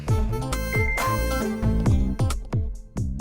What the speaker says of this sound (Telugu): ఈ టైంలో ఫోన్ ఎవర్రా?